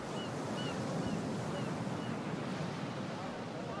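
Ocean waves wash onto a shore in a steady, broad hiss, with some wind on the microphone, continuous and fairly faint throughout.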